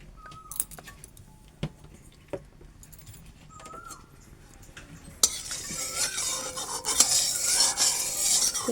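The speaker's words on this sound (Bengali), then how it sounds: "তেলটা ভালোভাবে কড়ার গায়ে লাগিয়ে দেব। তেলটা এখানে ভালোভাবে গরম হয়ে গেছে।" Oil sizzles in a hot wok while a utensil spreads it around the sides, with scattered metallic scrapes and taps before the sizzle rises sharply and then holds steady and close.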